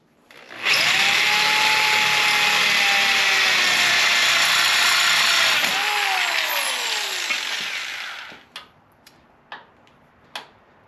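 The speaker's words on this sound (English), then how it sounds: "I just broke my drill" A loud, close power drill whines steadily for several seconds, dips in pitch, then winds down and stops as the drill breaks, followed by a few sharp clicks.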